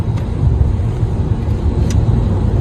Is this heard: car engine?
yes